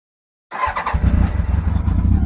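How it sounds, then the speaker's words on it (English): A motorcycle with the choke on and ignition on breaks the silence with a brief crank, then fires and settles into a loud, throbbing, slightly uneven engine run close by. "let's give her a start. Chokes on, ignition on."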